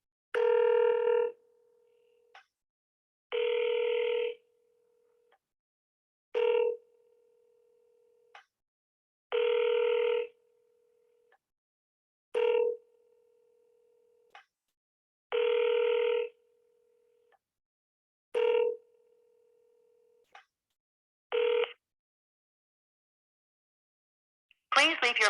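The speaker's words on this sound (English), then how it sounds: "Another phone call, cold call." A telephone dials out for a cold call. The line then rings in a regular series of repeated tones with short silences between them, and a voice starts right at the end.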